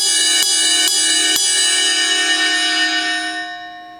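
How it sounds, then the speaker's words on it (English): Ride cymbal bell from a drum kit struck three times in quick, even succession, bright sustained ringing tones that linger and slowly decay alone after the last hit. "even just as great actually is the sound of the bell"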